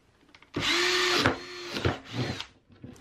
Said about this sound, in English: I hope it doesn't break it as I start doing the drilling here